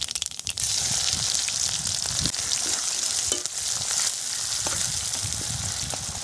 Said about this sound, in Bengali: এখানে ফোড়নে দিয়ে দিচ্ছি কালো জিরে আর সাদা জিরে আর এখানে দিয়ে দিচ্ছি পেঁয়াজ